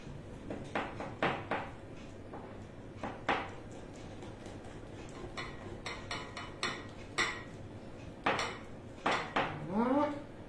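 Melted chocolate is stirred into gluten-free marble cake batter in a bowl, giving repeated close scraping and clinking of utensil against bowl at an uneven rhythm, with no talk.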